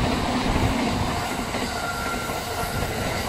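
A Yokosuka Line train rolls past near Shinkoyasu Station, a steady rumbling wash of wheels on rails with faint metallic squeal, heard from a short distance at moderate loudness.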